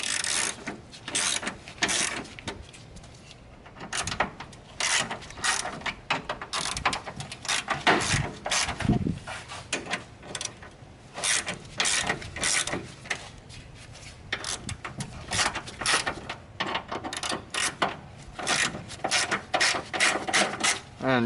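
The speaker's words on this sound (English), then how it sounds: "I'm going to go ahead and break all these bolts loose for the radiator brackets" Hand ratchet breaking loose bolts on car radiator brackets, a long run of rapid clicking bursts with short pauses between strokes, close and fairly loud, with no talking.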